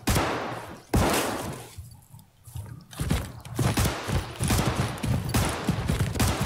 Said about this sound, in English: That is the guy shooting. He's very close. He's shooting me